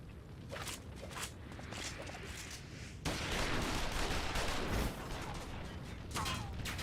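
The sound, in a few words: gunfire in a Final Fantasy XIV cutscene (video game)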